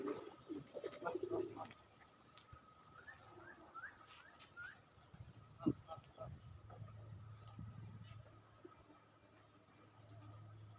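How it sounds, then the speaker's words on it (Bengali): Pigeons, a few kept by a hobbyist alongside some farm birds, coo softly and intermittently, with brief wing flaps and someone talking nearby at the start; the coos are faint and low against a quiet outdoor background. "যে আমার হাতে যে কবুতরটা দেখতেছেন"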